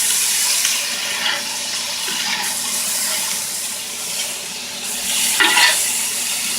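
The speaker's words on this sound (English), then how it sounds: "deglaze my pan." Vegetables and protein sizzle steadily in a hot skillet just after a soy sauce deglaze, a dense continuous frying hiss with occasional brief stirring scrapes, close and loud with no talking.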